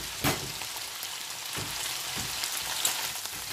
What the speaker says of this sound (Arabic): اخليهم ينحمسون شوية، واضيف لهم البصل المفروم